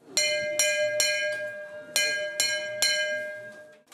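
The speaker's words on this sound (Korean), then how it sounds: "11시 정각이 되자 배식을 알리는 종소리가 울려 퍼집니다." A bell rung at a free meal center to announce mealtime, six bright clangs in an uneven rhythm, each ringing on with a clear tone that fades between strikes.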